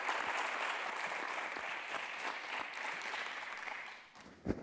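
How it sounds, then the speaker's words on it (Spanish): Steady applause from an audience for a speaker at a presentation on digitalization and Industry 4.0 best practices, dense clapping throughout that fades near the end with one final clap. "Un aplauso para ella, por favor."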